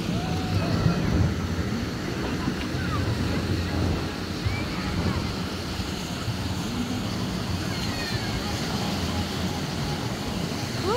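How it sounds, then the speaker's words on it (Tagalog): Ocean waves wash onto a beach in a steady, broad roar mixed with wind buffeting, while people chat nearby over the surf. "Yung alon."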